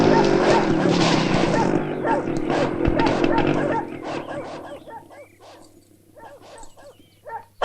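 Several dogs bark in a loud, dense burst that is left tied up in a spot in a Tamil comedy film, mixed with people talking and shouting, then thinning out into scattered sharp yaps near the end.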